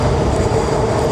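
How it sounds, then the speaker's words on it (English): A loud train passes close by in Kensington, a steady, dense roar of rumbling wheels and engine that fills the whole moment without letup, with no voices over it. "This train go by, right? It's so loud."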